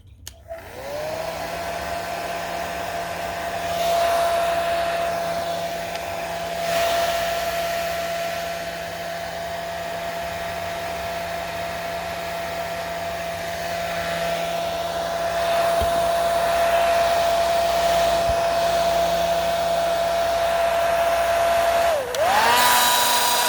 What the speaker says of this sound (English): I'm going to give this a little blow with the hair dryer.